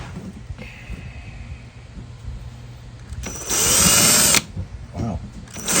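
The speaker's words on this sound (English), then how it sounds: "We clamp this when we drill it" A step drill bores into a clamped plaster of Paris lure mold, a loud close whine of about a second over low background rumble, followed by a brief scrape.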